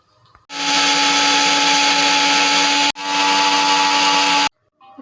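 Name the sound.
mixer grinder grinding roasted dried red chillies with salt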